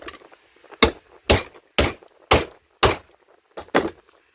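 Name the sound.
hammering hatchet on an anvil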